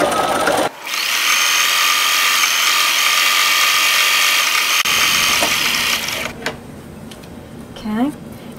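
A sewing machine stitches along the bottom seam of a tote bag made from a recycled T-shirt, running loud and steady for about five seconds, pausing briefly, then resuming as someone talks over the end.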